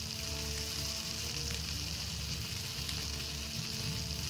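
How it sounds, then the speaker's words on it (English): Eggs frying in the video game Palworld, a dense, continuous sizzle and crackle under a low steady hum, close and unbroken with no talk. "Just cooking some eggs, frying them."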